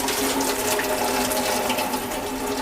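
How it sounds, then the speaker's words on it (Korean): Boiled ramen noodles are drained, with a steady loud rush of hot water pouring out into a sink, continuous and close throughout without talk. "이제 라면을 끓여서 물을 빼주고요."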